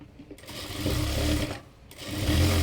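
Sewing machine running steadily as it stitches pleats down on a child's fatua, a continuous motorized whir with a brief slowdown partway through before resuming at full speed, close and loud.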